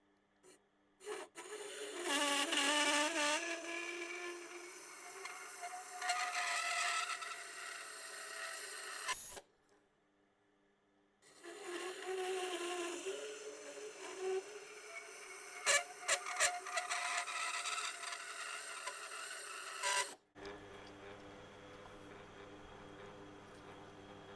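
Rubber-handled scissors being sharpened on a grinder, two long passes of squealy, rasping grinding separated by a brief silence, then a lower steady hum of the running machine.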